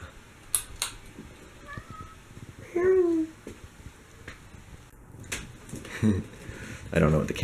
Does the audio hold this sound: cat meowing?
yes